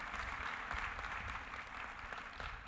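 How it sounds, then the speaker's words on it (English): Steady audience applause fills a graduation ceremony hall, a dense, even wash of clapping from a large crowd that holds at a constant level throughout with no voices on top. "how about a nice round of applause for the leadership?"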